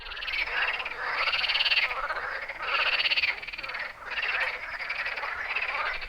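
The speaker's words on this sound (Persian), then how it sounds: "صدای قورباغه‌ای این برکه" A chorus of frogs croaks at a pond, loud and close, in repeated rasping bursts about a second long with short gaps between them, and no talking.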